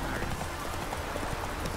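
Rhythmic clip-clop of galloping horse hooves in the video game The Witcher 3: Wild Hunt, quick and steady, with a voice speaking over it.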